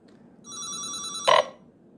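A telephone rings over a long-distance double-hop satellite link, one steady tonal ring burst followed by a louder, harsher chirp near the end, heard alone with no talk.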